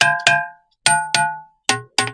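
Six sharp ringing strikes by hand on an ancient musical stone at a historical site, each with a bright metallic tone that decays quickly, coming in uneven pairs and singles, close and alone.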